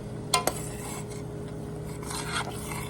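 Cornmeal being stirred into gruel porridge, a couple of sharp spoon knocks against the pot followed by soft steady scraping and swishing over a low background hum, close and fairly quiet.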